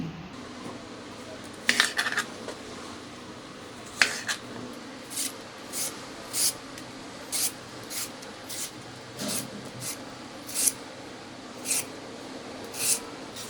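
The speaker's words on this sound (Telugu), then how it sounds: "ఇప్పుడు మనం అరటికాయ కట్ చేసుకుందాం బజ్జీ కోసం." A knife cuts and peels raw banana for bajji, giving a series of sharp, close scraping strokes at an irregular pace against a quiet background, with no one talking.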